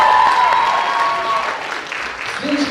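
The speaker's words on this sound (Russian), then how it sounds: "Если есть болельщики, могут громко поаплодировать." An audience at a KVN comedy competition final breaks into loud, dense applause, many hands clapping at once, with a faint tone sounding underneath at the start.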